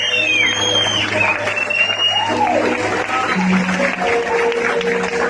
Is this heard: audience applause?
yes